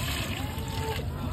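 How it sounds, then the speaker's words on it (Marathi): Hot water, heated beforehand at a hotel, is poured straight into a container with a steady, continuous splashing and gurgling that runs the whole time, while voices murmur faintly in the background. "पाणी आता डायरेक्ट यात जाईल"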